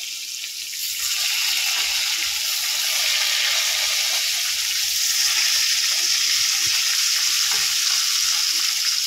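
Rohu fish frying in hot oil in a kadai makes a strong, even sizzle throughout, with a faint low clatter underneath.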